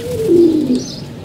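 A single close pigeon coos once, a soft, low, rounded call lasting about a second, with faint background noise around it.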